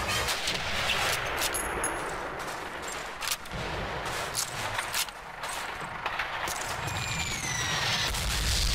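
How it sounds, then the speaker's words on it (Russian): Tank cannon fire in the Call of Duty campaign mission at a railway marshalling yard, with booming blasts and scattered gunfire crackling amid continuous battle noise, no talk. "если там танк стреляет"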